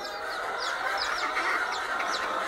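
Broody hens cluck and murmur continuously, with repeated short rising calls standing out over a steady drone of farmyard fowl noise, fairly close and with no talking.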